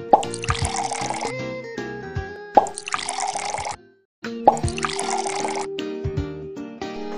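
White wine is poured into a pot for cheese fondue in three separate pours, each a gurgling, splashing stream of liquid, close up and clear, with brief pauses between them.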